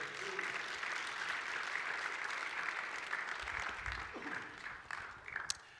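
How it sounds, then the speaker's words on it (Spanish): A church congregation applauds in praise during a sermon, producing steady, dense clapping from a crowd that continues for several seconds and tapers near the end, with brief voices mixed in. "Démosle palmas al Rey."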